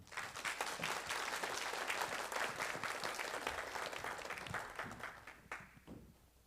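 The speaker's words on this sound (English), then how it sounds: "let's give a warm welcome and round of applause for Dr. Park." Audience at a talk on social media and parent-child relationships giving a warm round of applause, steady dense clapping that tapers off at the end, quiet and somewhat distant.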